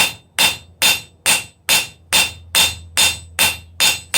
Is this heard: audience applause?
no